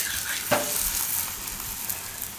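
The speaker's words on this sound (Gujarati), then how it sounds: "તો તેલ નાખીને આ રીતે શેકીએ એટલે એકદમ સરસ મસ્ત લાગશે એમ" Peas and potato paratha frying in oil on a pan, a close, steady crackling sizzle with one brief sharper spatter early on.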